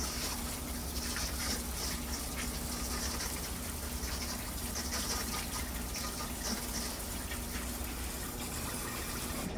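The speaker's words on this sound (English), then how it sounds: "So we're just gonna wash these all off" Tap water gushes steadily while beans and potatoes are rinsed under it, a constant close hiss and splash that runs unbroken with no speech.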